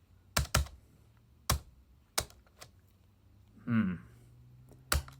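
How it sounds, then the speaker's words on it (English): Keys pressed one at a time on a computer keyboard hooked up to a Lenovo Smart Clock running DOOM, with the spacebar among them: about six sharp separate clacks with short gaps, plus a brief low game sound partway through. "Let's see if the spacebar works."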